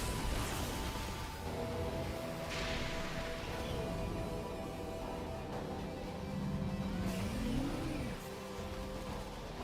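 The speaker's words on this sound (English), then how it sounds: "Okay, so there's a motorcycle in Prime 4." Motorcycle engine in the Metroid Prime 4 game trailer, revving and whooshing past amid layered music and effects, faint and mixed with a rising whine near the end.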